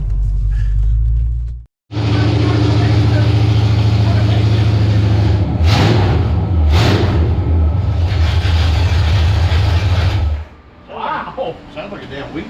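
A rebuilt Chevrolet 402 big-block from a barn-find Caprice roars on an engine dyno, a loud, deep, steady drone held for about eight seconds with brief surges, then cutting off as people talk afterward.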